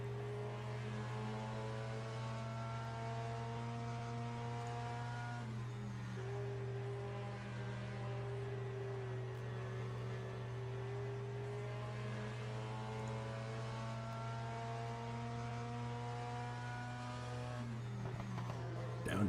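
A 1973 British Formula 3 race car engine climbing a hill, its sustained harmonic whine rising and steadying as it accelerates, loud and close over a constant low drone, with a commentator speaking over it.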